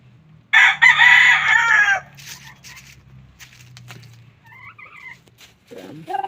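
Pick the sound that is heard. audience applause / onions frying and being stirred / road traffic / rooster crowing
rooster crowing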